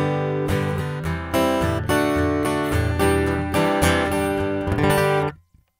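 Electric guitar runs through the EQ of an Elite Acoustics StompMix 4 mixer, playing bright, full strummed chords close and loud for about five seconds before cutting off abruptly.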